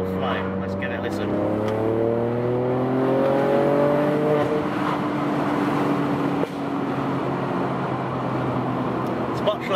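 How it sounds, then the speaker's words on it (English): Stage 2 Ford Fiesta with a decat exhaust accelerating, engine note climbing through revs as a rising drone, then a steady roar with faint crackles, heard from inside the car under a speaking voice. "I wonder if you can hear my decap pop, which is the one that cracks out the flame"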